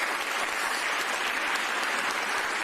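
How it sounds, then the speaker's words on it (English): Steady applause from a crowd, dense and even clapping throughout with no pauses, fairly distant and continuous. "Give the big three a round of applause."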